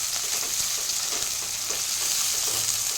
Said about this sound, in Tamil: வெங்காயம் நல்லா வணங்கணுங்க.